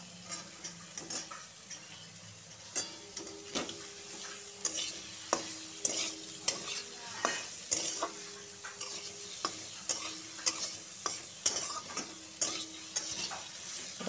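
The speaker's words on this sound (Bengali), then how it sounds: "ততক্ষণ গাজরটাকে ভাজা হচ্ছে।" Carrots fry in a pan with a little oil, a soft sizzle under regular scraping strokes of a spatula that repeat every second or so, close and fairly quiet.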